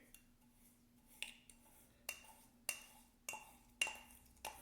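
A utensil stirring an oil and baking soda paste in a small dish, giving a run of sharp metallic clinks and taps at a steady, unhurried rhythm, close and fairly quiet over a faint low hum.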